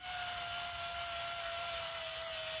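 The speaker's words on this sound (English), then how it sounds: "First thing I'm going to try is a grinder with a flap disc on it." Angle grinder fitted with a flap disc grinding metal on the front suspension of a 1994 Chevy K1500 truck, a loud continuous high-pitched whine with steady abrasive hiss throughout.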